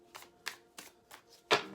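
A Light Seers Tarot deck being shuffled by hand, five short crisp riffling bursts spaced evenly, the last one loudest, close and quiet with no talk.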